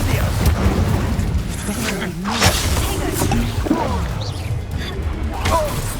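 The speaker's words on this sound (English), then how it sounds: "Oh, explosion!" An Incendio fire spell bursts during combat in Hogwarts Legacy, giving a deep boom and crackling blast among other battle sounds, fairly loud and close, with voices talking over the action.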